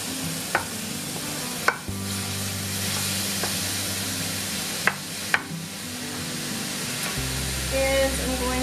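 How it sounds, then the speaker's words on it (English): About 2 pounds of ground beef sizzle steadily in a pan while browning, with a few sharp clicks of a utensil scraping and stirring, and a low background hum. "Here I have about 2 pounds of ground beef that I'm going to brown up."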